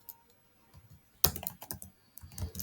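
Keys clatter on a computer keyboard as code is typed for a Playwright test, a few soft taps followed by a quick close burst of keystrokes.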